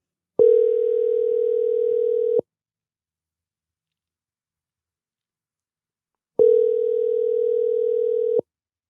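Telephone ringing tone while a call is placed: two steady, loud electronic beeps, each about two seconds long and separated by a four-second silence, with no voices.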